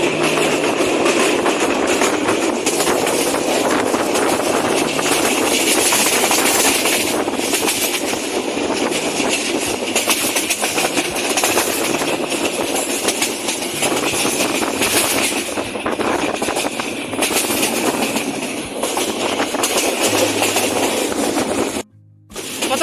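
The Parabat Express passenger train runs between Sylhet and Kulaura, heard as a loud, continuous rumble of wheels on rails with rhythmic clattering and a brief dip near the end.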